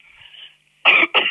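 A voice imitates a cough: two short, rough, breathy coughing bursts close to the microphone after a faint sustained hum, with no other talk.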